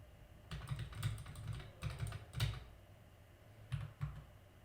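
Fingers type a file name on a computer keyboard in Windows PowerShell, producing quiet clusters of close key clicks separated by short pauses.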